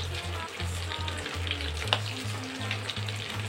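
Bread pakoras deep-frying in hot oil on a gas stove, a steady close bubbling sizzle with a low pulsing hum underneath, continuous throughout with no voices.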